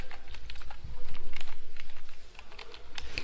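Rapid keystrokes on a computer keyboard as a super user password is entered at a Linux terminal, a steady run of close, crisp clicks with short pauses and no talking.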